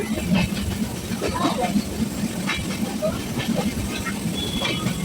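A moving train is heard from inside a carriage near a station: a steady low rumble and rattle runs throughout, with faint voices murmuring beneath it.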